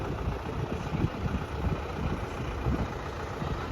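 A crane truck's heavy engine idles steadily at a distance, a low continuous rumble with no voices.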